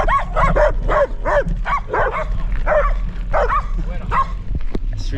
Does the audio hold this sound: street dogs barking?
yes